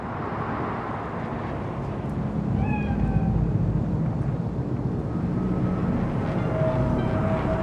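A cat meows several times over a steady low ambient drone in a Cyberpunk 2077 scene, the calls fairly clear and mid-distance, with no talking.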